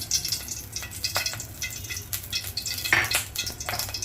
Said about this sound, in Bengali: তাতে দিয়ে দিচ্ছি কিছু সোয়াবিন তেল